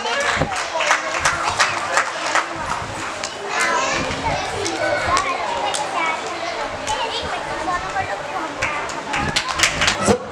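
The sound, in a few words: audience applause at society meeting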